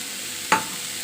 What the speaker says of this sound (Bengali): শাকটা ভাজা ভাজা হয়ে গেছে উপরে বেগুনটা দিয়ে ভালো যাবে এই বেগুনটা দিয়ে দিলাম